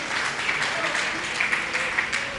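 Applause from the crowd at a Jain religious procession and festival in Bhatapara, a steady wash of clapping lasting throughout, fairly loud and continuous.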